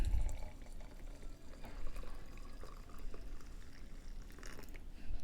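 Hot water pours into a cup for a non-alcoholic hot buttered rum with brown sugar, making a soft, continuous splashing close up that wavers gently in level.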